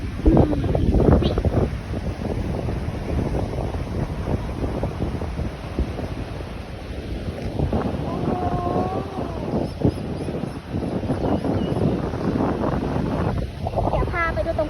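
Strong gusty wind buffets the microphone on a rocky seashore at Rayong during a storm with rain and high water, a steady loud roar with surf beneath and someone talking briefly.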